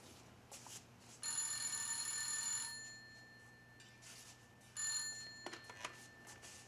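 An old-style telephone bell rings quietly indoors in a drama series, two bursts of rapid metallic ringing separated by a pause, faint against a low room hum.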